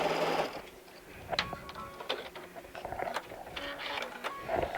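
A sewing machine with a denim needle works through heavy fabric, giving faint, irregular clicking and ticking over a soft mechanical hum.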